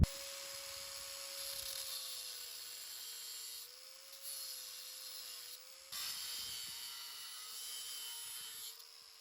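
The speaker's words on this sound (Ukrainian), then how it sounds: "Зараз оцей штуцер попробуємо е, відрізати і відбити" A steel fitting on a small homemade wood stove is cut off with a power tool, a steady high whine that runs continuously with two brief dips in load, close and loud with no talking.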